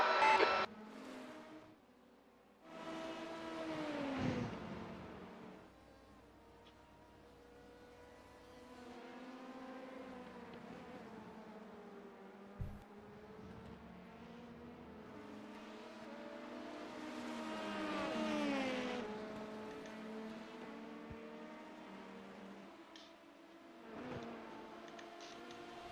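Race car engines in a 24 Hours of Sebring endurance racing video game, rising and falling whining revs as gears shift, one car accelerating and passing another, a sustained mid-level engine drone with no voices.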